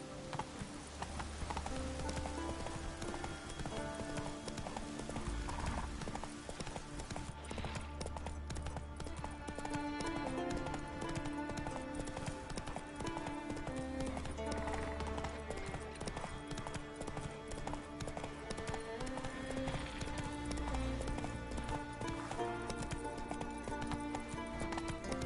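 Roach, the horse in The Witcher 3, gallops with steady, rapid hoofbeats in a driving rhythm that runs throughout, set under continuous game music.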